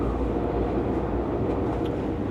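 A tilting high-speed train running between Vienna and Frankfurt produces a steady loud rumble and rolling roar as heard from inside the carriage, with no voices.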